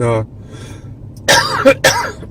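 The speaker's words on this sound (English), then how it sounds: "you'll have to excuse the coughing" Someone clears their throat, then coughs twice in harsh, close bursts with short pauses between them.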